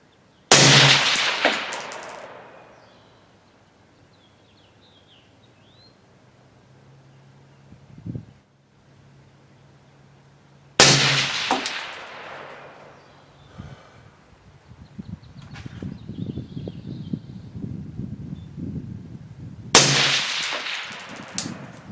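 Three loud, sharp rifle shots with Fiocchi 40 grain VMAX ammunition fired at a 200-yard target, spaced about ten seconds apart, each with a ringing decay, plus faint handling and rustling between shots outdoors.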